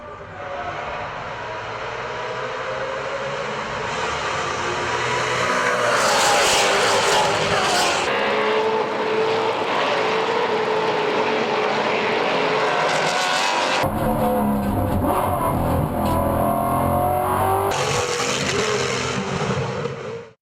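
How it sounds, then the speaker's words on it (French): Maserati GranTurismo Trofeo V8 race car with no sound deadening lapping a track, a loud, sustained engine roar that rises and shifts as the car passes and changes gear, with no talk over it. "si vous n'avez jamais entendu un V8 Maserati de course sans insonorisation sur une piste, eh bien regardez bien ce tour de piste"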